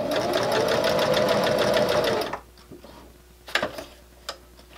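A sewing machine thread painting stitches on fabric for a wristlet keychain, running in a loud rapid whir that stops abruptly, followed by a few faint clicks and handling sounds.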